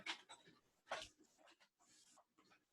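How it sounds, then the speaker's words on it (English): A dog making faint, irregular bursts of panting, whimpering and short noises, heard at a distance and quiet, with no voices over it. "that was the dog right then"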